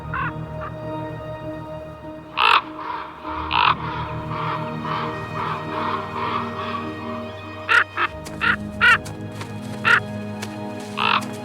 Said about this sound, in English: The ravens coo with various rough sounds